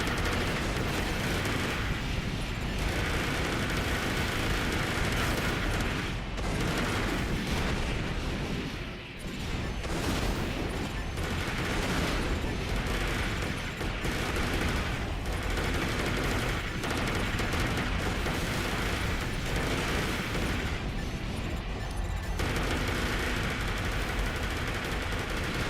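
Dual machine guns blaze in Armored Core 4, a dense, continuous roar of rapid automatic fire mixed with heavy explosive booms that runs almost unbroken, with only brief dips in intensity.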